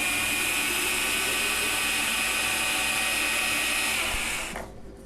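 A CNC mill (FS4MG) traverses its X-axis with a loud, steady high-pitched motor whine and hiss that runs continuously, then cuts off abruptly near the end.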